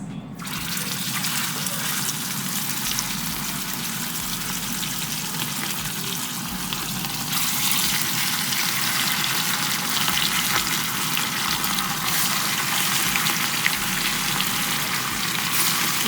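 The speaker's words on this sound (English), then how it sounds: "let's go ahead and add in the vegetable oil. And I'm probably gonna add the rest of this. All right, let's go ahead and sear both sides." Oxtails sear in hot vegetable oil with a loud, continuous sizzle and hiss that holds steady throughout, close up with no talk.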